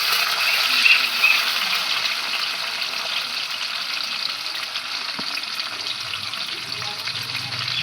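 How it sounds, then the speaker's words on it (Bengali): Cashews and raisins fry in ghee with a steady, even bubbling sizzle, moderately close and continuous, with a faint spoon tap partway through and no talk. "এবার এই কাজু কিশমিশটা আমি ঘিয়ে ভেজে নেব"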